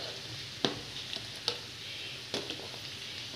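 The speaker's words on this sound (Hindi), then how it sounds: "सब्जी अपना भून रहे हैं" Vegetables for aloo gobi fry in a pan with a soft, steady sizzle, with a few sharp clinks of a spoon stirring. Quiet and close, no voices.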